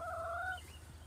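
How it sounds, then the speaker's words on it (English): A brief call from fowl inside a chicken coop, a single two-toned squawk close by over low background hum, then quiet. "We are now in the chicken coop. Here's all the chickens."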